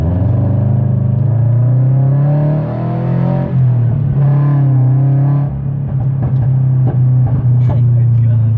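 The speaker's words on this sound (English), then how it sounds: "Just got back from our first drive with the new setup for the BRZ, and it sounds so good" A Subaru BRZ with a new exhaust front pipe and over pipe drones steadily while driving, a loud, low exhaust tone that rises and settles, with people talking over it.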